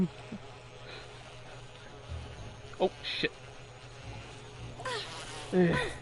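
Bees or wasps buzz in the Resident Evil HD video game, a low steady drone under a few sharp in-game clicks and bursts, with a man's brief exclamation.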